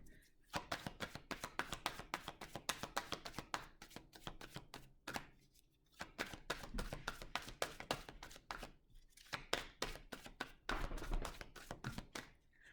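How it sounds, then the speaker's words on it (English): A dog laps water from its bowl close by, making quick rhythmic wet clicks in several bursts separated by brief pauses. "That's my dog drinking his water."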